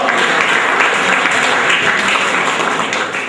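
A quiz show audience applauds the leading team with loud, dense clapping that stays even throughout and eases slightly at the end, with no voices over it.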